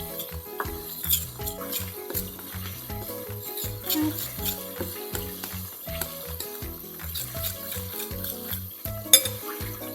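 A spoon works flour and sour cream together into a sauce for meatballs with rice, close up, with rhythmic scraping strokes against the bowl, a soft sizzle underneath and occasional light clinks of utensils, and no talking.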